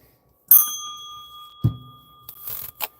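A single bright bell ding rings out and lingers, followed by a short thump and some light rustling and handling noise, with no talk.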